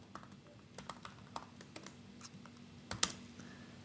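Fingers type on a computer keyboard, giving quiet, irregular key clicks in quick runs with a few louder taps near the end, close and alone in a quiet room.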